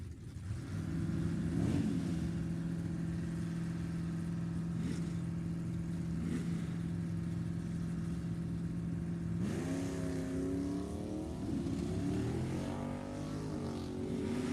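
At a drag strip, race cars including a 1969 Camaro hold a loud, steady engine drone, then rise sharply in pitch as they rev and pull away from the line.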